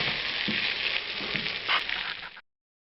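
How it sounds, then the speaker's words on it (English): Rice toasting in a pan alongside cooking vegetables for jambalaya, a close, steady frying sizzle with light stirring scrapes that cuts off abruptly. "we're going to try to toast this rice a little bit, make it pick up the flavors from the vegetables that are cooking here"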